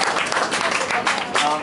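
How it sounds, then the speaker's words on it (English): Applause from an audience at a talk on high-rise composting, a dense, steady patter of many hands clapping close by, continuous through the whole stretch with no voices breaking through. "Give Joanne a big round of applause."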